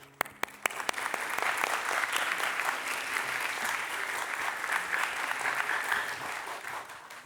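Audience applause in a Turkish religious lecture on television, a dense sustained wash of many hands clapping at steady loudness, opening with a few sharp individual claps before the crowd fills in.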